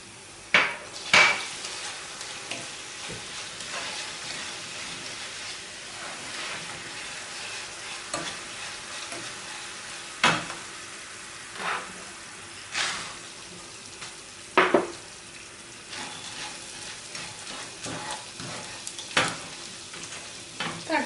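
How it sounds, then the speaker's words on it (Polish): Honey and nuts frying in caramelized butter and sugar, a soft steady sizzle with repeated spoon strokes and scrapes against the pan at irregular intervals, fairly quiet and close, no voices. "Dodaję miód i orzeszki i całość przesmażam."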